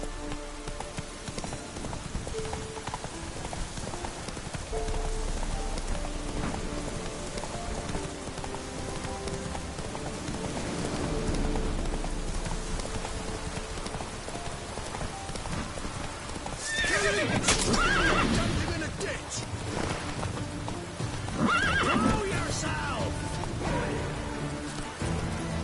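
Roach, a horse in The Witcher 3, gallops with rhythmic hoof clip-clops, snorting and a loud whinny partway through, set against soft ambient rain.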